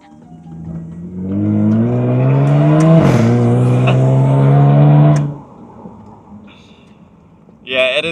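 A loud convertible's engine revs up hard, holds a roaring high pitch for several seconds, then drops to idle before a brief sharp blip.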